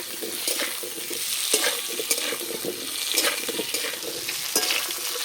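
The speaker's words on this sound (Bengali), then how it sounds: "আলু ভাজা হয়ে গেছে" Cut potatoes fry in oil tempered with five-spice in a kadai, a dense steady sizzle with regular stirring scrapes and soft utensil taps throughout, heard up close with no voices.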